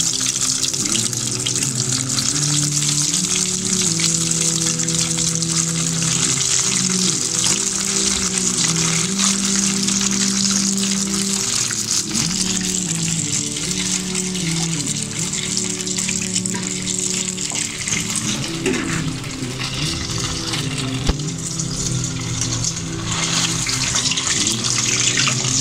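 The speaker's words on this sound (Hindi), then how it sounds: "अब मैं इनको फ्राई कर रही हूँ।" Chicken drumsticks fry in hot ghee over a low flame, giving a steady, loud, close hissing sizzle that holds throughout with no speech.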